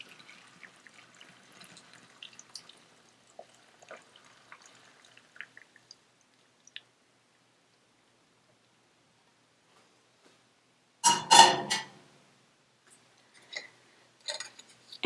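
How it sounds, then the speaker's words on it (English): Hot vinegar pickling liquid poured over radishes in a jar: a faint, thin trickle early on, then a short louder splashing burst near the end, with long quiet gaps between. "you very carefully want to pour your hot liquid over your radishes"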